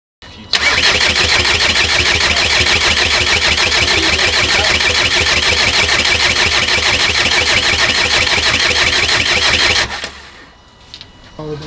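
A converted ASZ/ARL diesel engine in an MK5 Golf cranks loudly and continuously for about nine seconds with a steady rhythmic churn, then stops without catching, leaving quieter sounds nearby.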